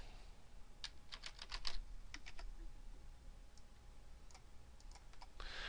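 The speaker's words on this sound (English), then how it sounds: "I'm going to type frequency here." A computer keyboard being typed on at a spreadsheet, with quick bursts of crisp key clicks followed by a few scattered taps, close but faint over a low background hum.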